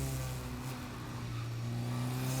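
Race car at the Magny-Cours circuit during a Sprint Cup race, a steady low engine drone holding under load as it accelerates, heard from on board at moderate level.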